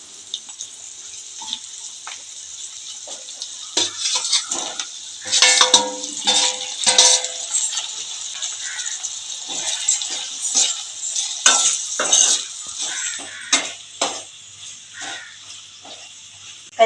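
Chopped tomatoes drop into a pan of frying ivy gourd curry with onion and green chilies, village-style cooking: steady sizzle with clattering stirring and scraping bursts, close and without talk.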